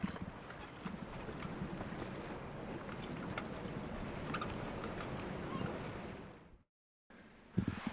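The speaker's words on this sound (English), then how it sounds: "it's very windy" Strong wind buffets the microphone in a steady, rough roar, cutting out briefly near the end before gusting again.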